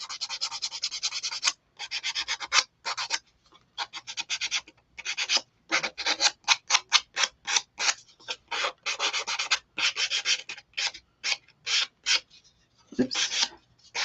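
The edges of a painted clipboard are sanded by hand in a series of short, close rasping strokes. The strokes come in quick irregular bursts separated by brief pauses, with no talk.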